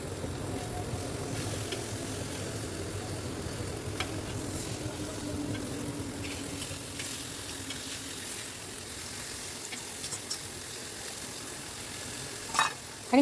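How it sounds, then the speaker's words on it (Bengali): Eggplant frying in a wok while being stirred and turned, a steady close sizzle with soft scraping strokes throughout and a couple of sharper clinks near the end. "আবার একটু উল্টে পাল্টে দিচ্ছি।"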